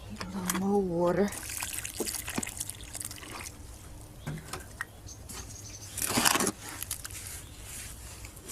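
More water trickles and splashes into a Portland cement mix in short close pours, with a voice speaking in between.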